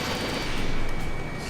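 A missile striking its target in the jet combat game Ace Combat 7, a sustained rumbling blast with dense crackling that swells briefly and then holds steady, with no voices over it.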